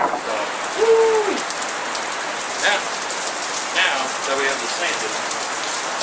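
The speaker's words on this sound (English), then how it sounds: "And you can really hear that rain pouring down." Heavy rain pours down steadily around a woodworking workspace, a dense, close patter that fills the whole stretch. A person speaks briefly and quietly beneath it.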